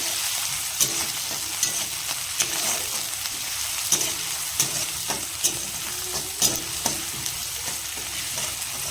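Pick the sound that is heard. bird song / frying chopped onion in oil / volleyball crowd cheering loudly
frying chopped onion in oil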